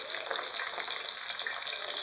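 Traíra fish frying in hot oil in a pan, a steady dense sizzle and crackle heard close up without talk.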